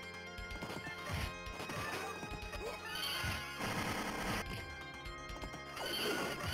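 A horse whinnies repeatedly in the 1991 Knights of the Round arcade game, loud shrill neighs mixed with crashing hits, clip-clop and busy game music throughout.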